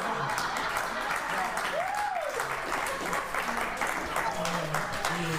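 Studio audience applause at a daytime television talk show, a dense steady wash of clapping throughout, with a voice calling out over it.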